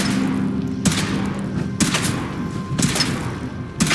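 Gunshots in Fallout 4 ring out as four evenly spaced heavy reports, each a sharp loud crack with a short tail, over a low steady hum.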